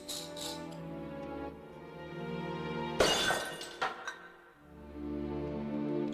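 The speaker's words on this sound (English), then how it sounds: "I smashed the tall urn into tiny pieces" A tall glass urn smashes into pieces in the Discworld Noir video game: one sudden loud shatter over a steady musical backdrop, followed by a few scattered tinkling fragments before the music swells back.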